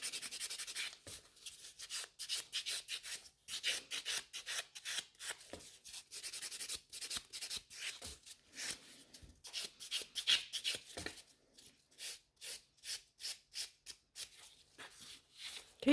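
A nail file rubs quickly across gel nails in brisk, repeated strokes, a close, faint scratchy rasp in steady bursts with short pauses in between.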